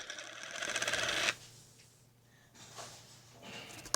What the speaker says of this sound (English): I love flarp noise putty.